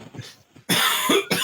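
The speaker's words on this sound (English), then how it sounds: "Let me just cough." Two loud, harsh coughs from a person sitting close to the microphone on a podcast, each followed by a short gap. Faint voices can be heard before the first cough.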